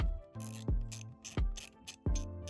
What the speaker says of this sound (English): the only way you know they're fully loosened is they click when you twist them because the thread is skipping over